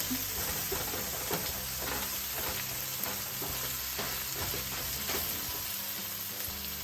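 An egg is scrambled in a hot wok for Thai beef fried rice, giving a continuous loud sizzle with repeated stirring scrapes and a faint steady hiss, no voices present.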